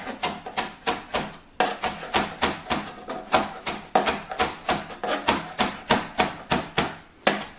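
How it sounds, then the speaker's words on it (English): Fresh basil is chopped with a knife on a cutting board in a steady, fast rhythm of sharp, close thuds, briefly pausing once before continuing at an even pace with no voices. "just take your basil, just give yourself a little bit of room on your cutting board,"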